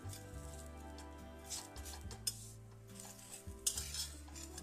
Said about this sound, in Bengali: উল্টে পাল্টে এভাবে ভেজে নেব।